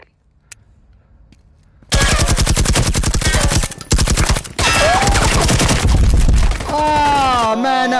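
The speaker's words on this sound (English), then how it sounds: "I'm gonna blind fire" Blind gunfire in the VR shooter Firewall Zero Hour on PS4 Pro: loud, close bursts of rapid automatic fire in several stretches with short breaks, a voice briefly heard near the end.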